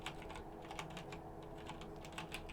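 Rename command typed on a computer keyboard, a quiet run of quick, uneven key clicks close by, with no voice.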